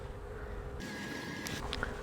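Honeybee drones buzz steadily at close range as they are shaken off a comb frame, a continuous droning hum that thickens briefly partway through with a few sharper passes.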